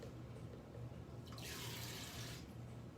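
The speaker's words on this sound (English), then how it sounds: "I'm going to add a little bit of water to it" Water pours from a tap into keto chocolate crazy cake batter, a steady splashing stream that swells for about a second in the middle over a low background hum, with no voices.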